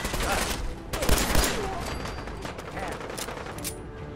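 Dense bursts of gunfire in the video game Fallout 4, with pistol shots crackling over a loud, continuous wash of game noise and sharp impacts close in the mix.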